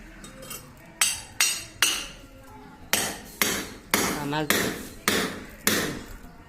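A pipe clamp hammered into drilled holes while installing a 1 HP motor, about a dozen sharp ringing metallic blows in an irregular rhythm, loud and close.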